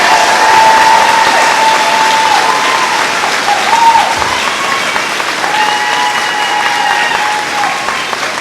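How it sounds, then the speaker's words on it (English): A large crowd at a 2024 high school graduation ceremony applauds for the graduates, loud sustained clapping with a few cheers and whistles throughout. "Please congratulate them and give them a round of applause."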